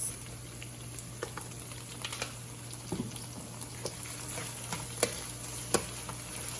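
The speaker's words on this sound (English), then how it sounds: "Make sure you're like continuing with the stirring." Food cooking with sriracha sauce is stirred in a sizzling pan, a steady frying hiss and low hum punctuated by sharp scrapes and clicks of the utensil against the pan.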